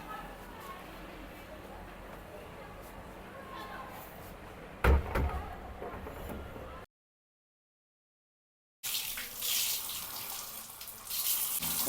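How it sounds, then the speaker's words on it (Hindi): A dusty mop is rinsed under a running water tap at a sink, with a sharp knock near the middle, a short silence, then a loud, steady rush of water splashing close by. "पोछा भी डस्ट से भर गया यार, मैं तो धोना पड़ेगा इसको।"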